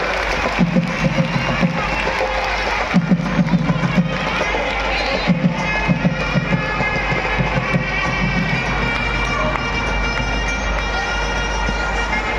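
An audience at an RID celebration applauds and cheers drama artists being honoured after their play, a dense, steady wash of clapping and crowd noise with rhythmic surges throughout.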